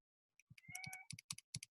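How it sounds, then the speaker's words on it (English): A pet cat meows once, quiet and close, with soft keyboard-like clicks tapping before and after it in an otherwise silent room. "That's my cat, Harrison."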